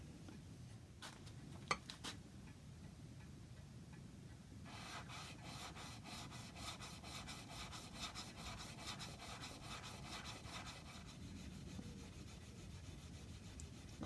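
Chisel blade being sharpened after a rough edge from tarmac left a heavy burr, a steady rasping rub of steel on an abrasive stone or grinder, continuous and close, starting after a few quiet seconds with brief knocks early on.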